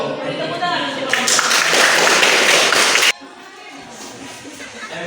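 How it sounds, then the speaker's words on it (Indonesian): A classroom audience bursts into loud applause for a teacher, a dense two-second wave of clapping that cuts off abruptly, with voices before and after. "Beri tepuk tangan untuk Bapak."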